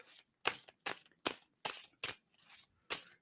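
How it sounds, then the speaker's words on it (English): Tarot cards being shuffled by hand in a series of about seven crisp, papery riffle bursts, close and moderately loud, with short quiet gaps between them and no talking. "And I'm going to stop shuffling on that."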